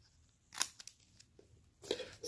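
Scissors cut material for a cat-ear hat in a few sharp, close snips separated by quiet pauses, with a longer crisp cut near the end.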